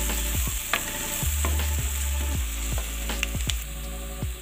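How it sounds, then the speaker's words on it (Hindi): Chopped garlic and softened onions fry in a pan for pizza sauce, a steady sizzle broken by a run of sharp utensil scrapes and taps as the mixture is stirred, close and without talk. "तो यहाँ पे लहसुन भी भुन चुका है।"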